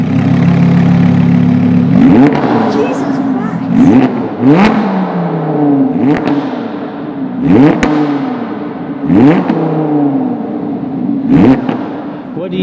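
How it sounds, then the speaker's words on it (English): A Lamborghini Huracan LP610-4 exhaust blips and revs sharply about six times in a row, loud and close, each rev rising fast and falling away, with a brief exclamation between. "gave us a couple baby revs on the Lamborghini"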